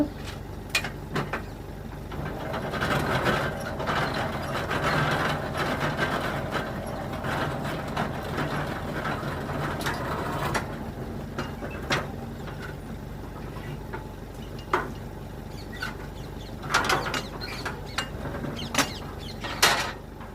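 A chain hoist raises a Suguna 7.5 HP submersible borewell pump with a continuous mechanical rattle and clank. Sharp metallic knocks and chain clinks recur throughout at close range.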